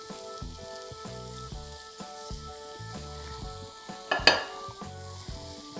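Mushrooms sautéing in a pan, cooked as a side for steak with a peanut cream sauce, give a steady sizzle under background music, with a brief louder burst of frying near the end.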